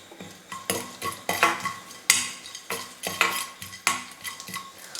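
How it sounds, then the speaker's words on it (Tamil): Urad and chana dal roast in a pan with crushed, skin-on garlic cloves while a utensil stirs them, giving a run of close, sharp metallic clinks and scrapes in uneven bursts over a faint background. "உளுத்தம்பருப்பு கடலைப்பருப்பு வறுக்கும் பொழுதே நம்ம இது கூட பூண்டு சேர்த்துக்கலாம்."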